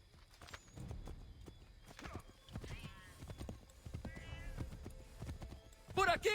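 A horse gallops in Assassin's Creed III with rapid clip-clop hoofbeats and a whinny near the end, under frequent voices talking and calling out.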